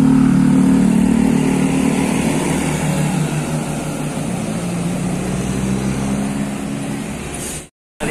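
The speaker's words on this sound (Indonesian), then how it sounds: "Melintas kembali bus Kramat Jati." A Kramat Jati tour bus drives past on a road in Ciamis, its loud engine drone rumbling steadily for several seconds and slowly easing before cutting off abruptly.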